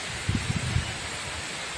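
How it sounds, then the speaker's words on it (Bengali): Stormy wind during heavy rain blows through the garden trees, a steady broadband rush with a short cluster of soft rustling gusts near the start. "আর তার সাথে কিন্তু এই যে ঝোড়ো হাওয়া"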